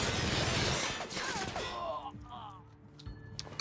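Rapid gunfire rattles in The Outer Worlds video game, a dense burst of shots in the first half that fades into quieter in-game sounds and faint voices.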